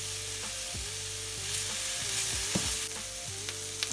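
Onion fries in a pan for vegan jackfruit tinga, a close, steady sizzle punctuated by regular scraping strokes of a spoon stirring through it, with no one talking.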